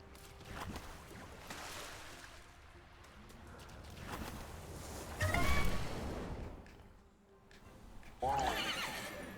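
A horse in the video game Temtem whinnies and neighs twice, a shrill rising call near the end, over outdoor ambience with faint hoof and water sounds.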